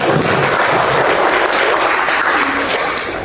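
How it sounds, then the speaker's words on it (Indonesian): A classroom of students claps their hands together in a loud, dense, continuous round of applause that lasts a few seconds, with no speech over it. "Kita kasih tepuk tangan kita semuanya."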